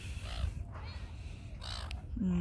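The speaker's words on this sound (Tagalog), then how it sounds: "as you can see, ayan ang mga ibon dito sa atin" Birds call at a harbor with moored boats and yachts, several harsh caws over a rumbling outdoor background, with a low buzzing tone near the end.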